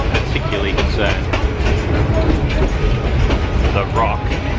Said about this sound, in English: the train is rocking so much side to side it feels like it's going to fall off its little rail